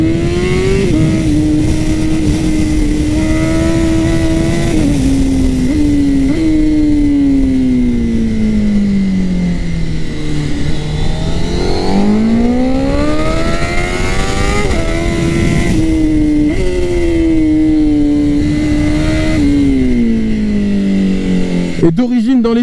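Honda CBR 1000 RR-R SP sportbike engine revving loud and close, pitch climbing and falling through repeated quick-shifted gear changes, with the exhaust valves opening at high revs for a sharp, singing howl throughout.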